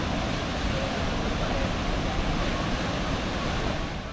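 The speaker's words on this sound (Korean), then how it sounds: "끝까지 올라가 보니 폭포가 하나 있었다." A waterfall at the top of a lakeside trail in Canada gives a steady, dense roar of rushing water, close and continuous throughout.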